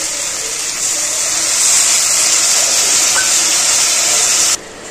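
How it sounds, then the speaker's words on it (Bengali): Water poured into a hot pan of okra and prawn curry sets off a loud, close, steady steam hiss that continues for several seconds and then cuts off abruptly. "এবার আমি অল্প করে জল দিয়ে দেবো।"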